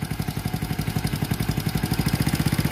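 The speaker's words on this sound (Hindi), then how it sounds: "फिर भी इंजन का आवाज़ कम हो रहा है, यानी बाइक दब रहा है" A motorcycle engine runs at low revs and is close by, giving a fast, even chugging pulse that holds steady throughout a few seconds.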